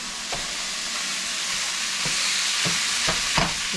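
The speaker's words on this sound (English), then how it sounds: "let me stir the meat real quick" Ground beef sizzling steadily in a frying pan while a utensil stirs and breaks it up, with several distinct scraping strokes against the pan over a constant frying hiss, no talking.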